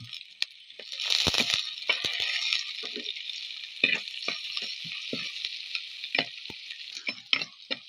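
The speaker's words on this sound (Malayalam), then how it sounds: "അപ്പോൾ നമ്മുടെ ചെറിയുള്ളി മൂത്ത് വന്നിട്ടുണ്ട്" Small shallots frying in a pan with ginger, garlic and green chillies, a steady bright sizzle broken by frequent scraping and stirring clatters from a spoon against the pan.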